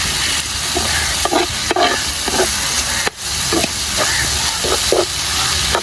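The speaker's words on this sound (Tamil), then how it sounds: "வெங்காயம் தக்காளி வதங்கும் போதே கொஞ்சம் உப்பு போட்டுக்கலாம். இப்போ நம்ம அதே நல்லா இப்போ வதக்கலாம்." Onion and tomato sautéing in a pan for a veg sandwich, giving a steady close sizzle and fry hiss with repeated scraping stir strokes throughout, no voices.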